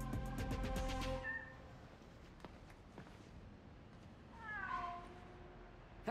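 A cat meows twice in Spider-Man: Miles Morales, one loud drawn-out meow at the start and a second rising meow later, with soft game ambience and light footstep-like taps between them.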